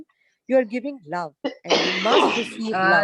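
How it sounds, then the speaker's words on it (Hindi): Coughing and throat clearing from someone in the background of an online session, a rough burst of coughs rising over and after a person's steady talk. "ये बैकग्राउंड में किसी के खांसने की आवाज आ रही है"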